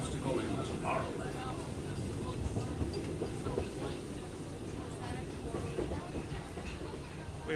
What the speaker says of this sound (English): We were so close to seeing the train come through.